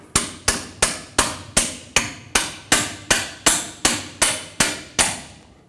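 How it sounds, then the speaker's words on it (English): Hammer striking a tie rod clamp on a 2011-2016 Ford F-350 outer lower tie rod, about fourteen sharp metallic blows in an even, steady rhythm, close and loud. "Tap this clamp to break it free."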